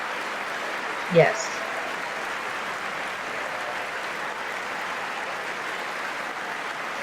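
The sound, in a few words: applause from the audience at the State of the Union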